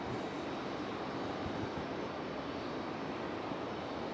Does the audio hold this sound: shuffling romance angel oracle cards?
no